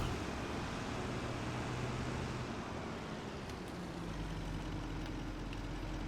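A white pickup truck in Farming Simulator 25 idles steadily, a low continuous engine rumble with a constant drone and no talk over it.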